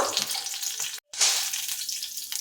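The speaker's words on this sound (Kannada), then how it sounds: "ಇವಾಗ ಈ 3 ಹಸಿಮೆಣಸು, ಬೆಳ್ಳುಳ್ಳಿ, ಟೊಮೆಟೊ ಈ 3 ಸ್ವಲ್ಪ ಬಾಡಿಸ್ಕೋಬೇಕು" Green chillies, garlic and tomato sauté in hot oil in a pan with a bright, steady sizzle, broken by one brief cut to silence before the crackling resumes loudly.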